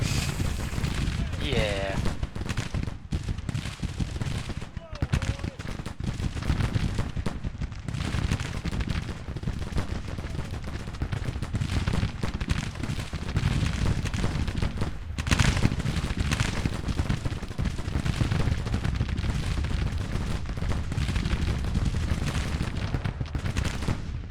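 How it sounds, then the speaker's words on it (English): Dense Civil War Colt rifle fire in a Grand Tactician battle at Mayo's Bridge, a continuous rattling crackle of many rapid shots blending into a roaring din with heavy low rumble throughout. "these guys got the Colt rifles, which very high rate of fire"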